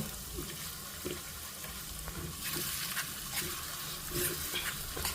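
Grated raw mango chutney mixed with its tempering is stirred in a pan, giving steady scraping and light sizzling with soft clinks, close and continuous, with no talking.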